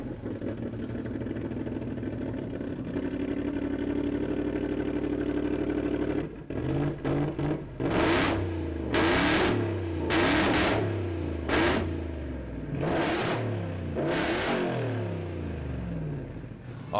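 A Ford Illuminator XS engine runs at a steady, throaty idle, then after a brief stutter it is revved hard five or six times in sharp, loud bursts separated by short drops back toward idle.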